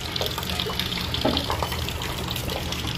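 Water rushes steadily through a gas geyser water heater under repair, a continuous loud hiss and gurgle close by with faint knocks.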